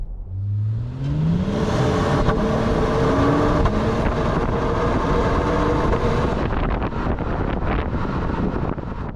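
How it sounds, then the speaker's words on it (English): The turbocharged V6 of a 2025 Acura MDX Type-S revving up under acceleration with a subdued exhaust note through four tailpipes, rising in pitch through the gears, accompanied by steady wind and road noise. "it doesn't really make too much noise because although it has 4 exhaust pipes out the back"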